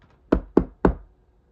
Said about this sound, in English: A knock on the door startled them both.